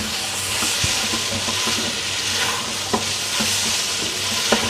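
Chicken macaroni masala with powdered spices sizzles steadily in a pan, with a loud continuous fry and a few sharp scrapes and clinks from a stirring utensil, no talking.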